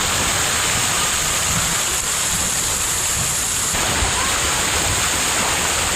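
Cold water pours down in a steady, loud, continuous rush at Imagica water park in Khopoli as a person stands under it getting soaked, the broadband splashing roar unbroken throughout.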